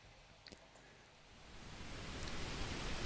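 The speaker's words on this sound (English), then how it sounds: "which is just pink noise." Mono pink noise plays from a sound buffer as a broad, even hiss that swells louder over the course, with a few faint clicks near the start and no talking.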